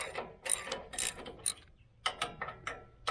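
A 9/16 socket wrench ratchets cap screws loose on a Wood-Mizer sawmill, close and crisp, in short clicking bursts with brief pauses between strokes.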